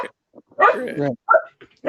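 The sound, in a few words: Shetland sheepdog barking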